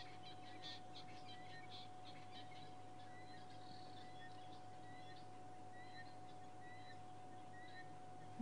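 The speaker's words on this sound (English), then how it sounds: "what are those guinea fowl upset by now?" Guinea fowl chattering in the bush on a safari drive, a run of faint, distant, repeated scratchy calls over a quiet background hum.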